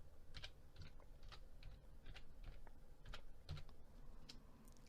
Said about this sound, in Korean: 여기에다가 카드 미수금이라고 이렇게 치겠습니다